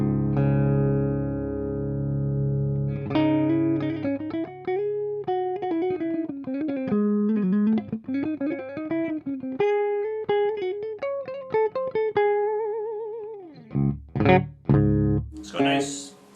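Electric guitar with its pickup selector in the middle position, giving a single-coil tone: a sustained chord rings out, then a run of quick picked single-note lines and bends, close and clean, ending in a few sharp strummed chords.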